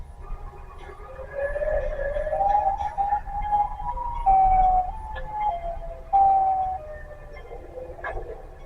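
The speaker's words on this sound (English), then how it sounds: "A food worker paces around outside on his break when he hears a siren." A wailing siren, ambulance-like, sounds outside a restaurant, rising and falling in long sweeping tones at moderate distance, swelling in bursts before fading slightly toward the end.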